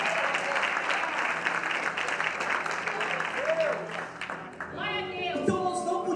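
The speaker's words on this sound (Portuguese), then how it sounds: "Se for para o Senhor, pode aplaudir." A church congregation applauds during a Portuguese-language evening worship service, sustained dense clapping for several seconds before it thins out and a voice speaks over the fading applause.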